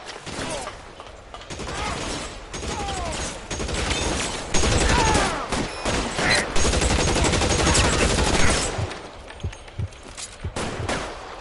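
Gunfire in the video game L.A. Noire, a dense, sustained exchange of rapid shots and bursts, loud and close, with mechanical clicks mixed in and no clear talking.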